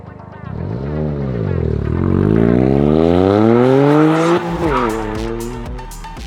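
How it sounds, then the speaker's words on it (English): A Toyota GR Corolla spins donuts at Gymkhana Grid 2023, its engine revving hard and rising in pitch while the tires squeal continuously, loud and close, for several seconds. "Let's do some donuts before she shuts us down again."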